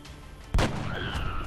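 A single sniper rifle shot in the XCOM Enemy Within video game, one sharp loud bang followed by a brief ringing tail, with faint game ambience and no talking over it.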